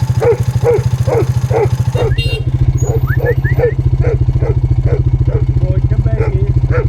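A farm dog in New Zealand's South Island barks in a quick, regular series of sharp yaps over a loud, throbbing engine that runs throughout.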